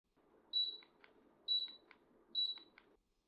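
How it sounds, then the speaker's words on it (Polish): Three short high-pitched electronic beeps from a Sonniger air conditioner confirming remote button presses, evenly spaced about a second apart, each followed by faint clicks over a low background hum. "Każde naciśnięcie zostanie potwierdzone krótkim sygnałem dźwiękowym."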